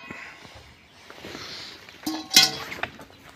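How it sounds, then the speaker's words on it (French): A cooking pot is set down on the floor, a single sharp metallic clank with a short ringing tail after some quiet shuffling and faint handling noise. "je mets la marmite par terre"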